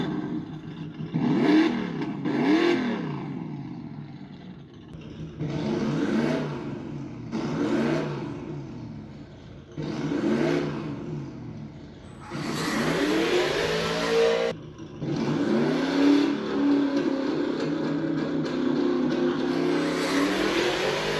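Recorded engine revving sound effect played from a phone app through a Bluetooth speaker, in loud repeated rev bursts with pauses, then longer sustained revving toward the end.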